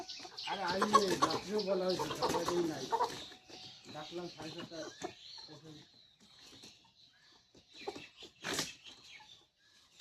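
Chickens cluck and squawk close by, busy and overlapping at first, then scattered calls with a flutter near the end.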